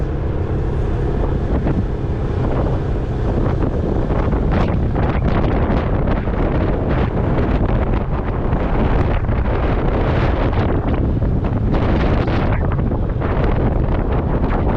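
Strong wind buffets the microphone aboard a small boat at sea, a loud, constant roaring rumble with gusting bursts that swell and fade over the steady drone of the vessel.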